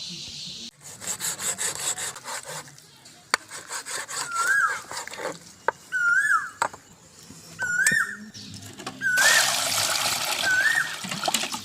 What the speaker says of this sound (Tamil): இப்போ ரெண்டு தண்ணி ஊற்றி அலசிட்டேன்